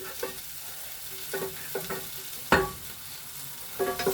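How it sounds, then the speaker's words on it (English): Onions frying in melted butter in a pan on an electric stove, a soft continuous sizzle broken by repeated scraping and clinking of a utensil stirring them, one louder clack midway. "these onions are cooking a lot faster than I anticipated"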